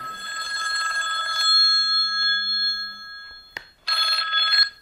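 A phone rings loudly and close by, its bell tone sounding in two long bursts split by a short pause, with almost no talk over it.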